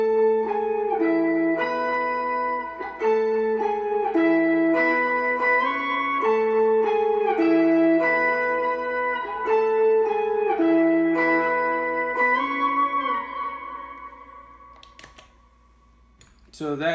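An electric guitar runs through a Nano POG octave pedal with a little reverb, playing a steady arpeggiated pattern of bright, layered octave tones that ring out and fade, followed by a couple of sharp clicks at the end.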